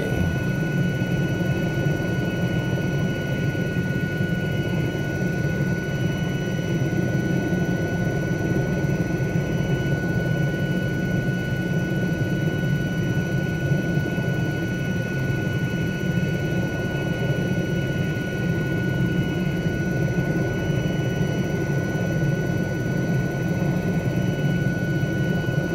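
Helicopter flying in Microsoft Flight Simulator 2020, a steady, loud rotor and engine drone with a constant high whine, holding at one level throughout with no talk.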